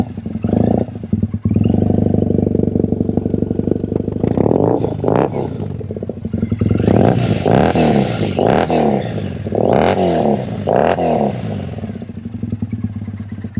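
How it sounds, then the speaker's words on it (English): A 2005 Triumph T100 motorcycle, converted to a 1965 Triumph clone, starts up and runs. A loud, close engine idles and revs several times with a steady throb, alone with no talk. "Let me see if I can start the bike for y'all."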